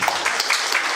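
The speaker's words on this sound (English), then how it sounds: "Can you clap for me?" Brief burst of audience clapping at a mortician conference, a short, fairly loud patter of hands from a seated crowd lasting about a second.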